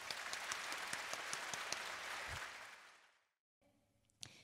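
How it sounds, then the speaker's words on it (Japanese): A concert audience in Saitama claps for a returning girls' band, a dense steady roar of applause that swells, thins out and fades to silence, followed by a faint murmur and one louder sound near the end. "もう一度大きな拍手を。"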